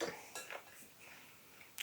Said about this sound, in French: on va ajouter le fromage à tartiner, les 100 g, et on va venir fouetter le tout